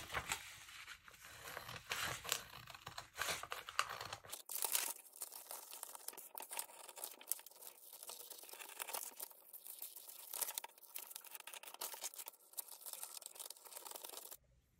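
Paper pattern pieces are cut out one by one, giving close, faint crinkling, rustling and snipping that comes in irregular bursts and scrapes.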